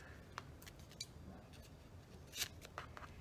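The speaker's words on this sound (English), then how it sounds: "And then I simply just cut them into little" Scissors snip a sheet of stickers into small postage-stamp strips, giving a few quiet, close crisp cuts at irregular intervals with faint rustling between.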